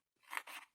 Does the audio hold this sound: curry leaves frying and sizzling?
no